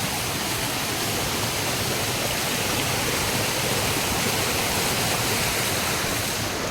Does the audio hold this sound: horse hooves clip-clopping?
no